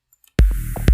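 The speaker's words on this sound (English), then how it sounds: "take a look at the white noise here" A white noise layer in a production music mix enters abruptly after near silence, a loud broadband hiss joined by thumping low kick hits and a tonal sustain, all at close, full level.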